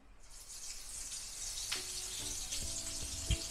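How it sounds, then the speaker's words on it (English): Shrimp hit a preheated pot of hot oil and sear, a rising hiss of sizzling that builds and holds, with a few clinks and knocks near the end. "this is our preheated pot with the oil already added. All right, so we're just gonna add our shrimp"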